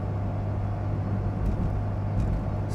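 Steady drone of a 1980 Mazda RX7 cruising at about 40 mph in third gear, a constant low engine hum with road and wind noise from inside the car and no talking.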